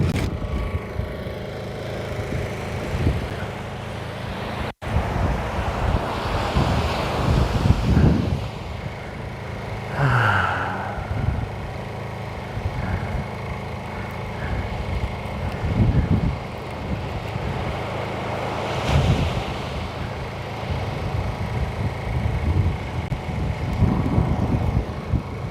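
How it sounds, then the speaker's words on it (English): Strong wind buffets the microphone at an Australian beach during surf fishing, a continuous loud rumbling roar with gusty surges throughout, no clear talk. "Very strong wind at the moment, Famo."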